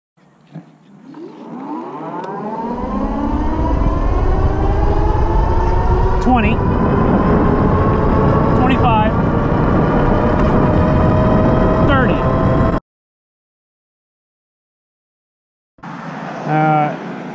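An Ariel Rider X 60 electric bike on a 60-volt upgrade pulls away from a dead stop, its motor whine rising steadily in pitch and staying loud for about ten seconds before cutting out, with a short burst of speech near the end.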